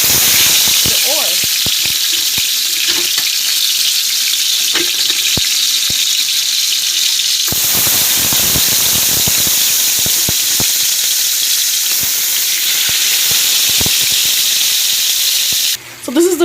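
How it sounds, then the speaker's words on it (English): Pork neck bones sear in a hot pot with oil, making a loud, continuous sizzling hiss close by that rises in intensity partway through. "Now what I'm gonna do now is I'm gonna start adding my meat"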